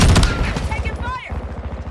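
Rapid automatic gunfire in Call of Duty Modern Warfare 2, a loud rattling stream that continues throughout, with a brief voice-like tone partly over it.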